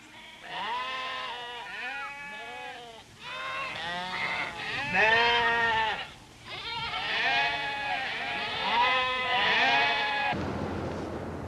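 Sheep bleat repeatedly in a loud, overlapping chorus of wavering calls, several animals close by, with a brief pause midway before the bleating resumes and then cuts off.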